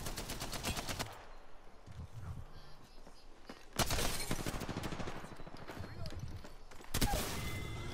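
Gunfire in Apex Legends, including Mastiff shotgun blasts, in loud bursts of shots separated by quieter gaps with footsteps and game sounds, while players talk over it.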